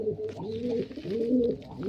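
Pigeons perched near a netted coop coo nearby in a steady, rolling rhythm of low throaty calls that repeat over and over, with no talking.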